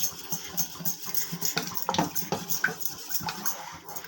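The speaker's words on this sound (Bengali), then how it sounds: "এই কাস্টার্ড পাউডারটাকে ভালো করে একটু জল দিয়ে, অল্প জল করে" A spoon stirs two spoonfuls of custard powder with a little water in a small bowl for mango borfi, giving close, light clinks and scraping with faint watery swishes, repeated irregularly throughout.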